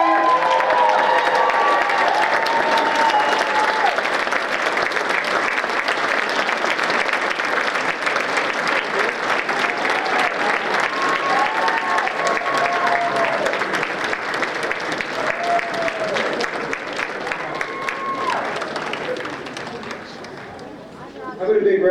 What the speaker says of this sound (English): please rise, put your hands together for our senior senator